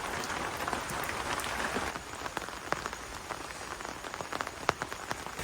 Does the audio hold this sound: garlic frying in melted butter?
no